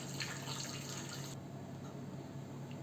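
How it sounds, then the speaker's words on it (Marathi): Hot water poured into a cooking pot of smashed tomatoes for a spicy farsan curry, a soft brief liquid splash and trickle that fades halfway, faint and close. "त्यामध्ये ओतूया गरम पाणी"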